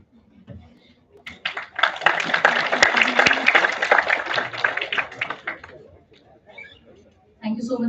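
Audience applause at a seminar, a dense burst of clapping that swells for several seconds and then fades, with voices murmuring before and after.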